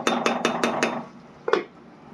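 A metal lid clatters five times in quick rhythmic taps, then lifts off with one clank from a pot of spicy chicken kosha, close and clear with no talking.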